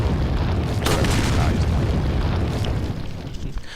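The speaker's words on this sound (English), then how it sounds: "I'm gonna use my rocket launcher the whole time" A rocket launcher explosion in Resident Evil 4, a loud booming blast with a rumbling burst and lingering debris noise that fades toward the end.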